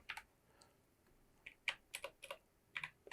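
Computer keyboard typing and an Enter key press while editing in Photoshop: a few quiet, scattered clicks, then a quick cluster of sharper keystrokes, close by and alone.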